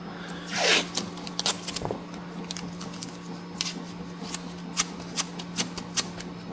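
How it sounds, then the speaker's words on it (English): Low-tack masking tape is pulled off the roll with a brief ripping tear, then pressed onto a PRS guitar with a string of small crinkling, tapping touches, close and fairly quiet, over a steady background hum. "I prefer the lowest tack masking tape that I can find."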